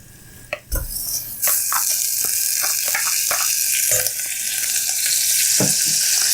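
Butter melting in a hot pan, being prepared for Turkish-style baklava, gives a loud, steady sizzle and frying hiss, broken at the start and throughout by the clinks and scrapes of stirring against the pan.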